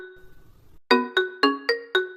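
A mobile phone ringtone for an incoming call sounds five bright, evenly spaced chiming notes after a soft, faint melodic lead-in. It plays clearly and close, with no talking.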